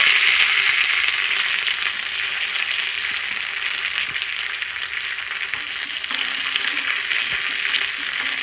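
Chopped shallots, green chillies and curry leaves fry in oil after mustard seeds have popped, giving a steady, close, continuous sizzle with a few faint crackles and no talking.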